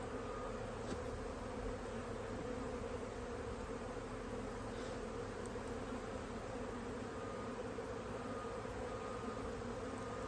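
Honey bees buzz at an open hive during a late winter inspection, a soft, dense, continuous hum from many insects close by, with no voices.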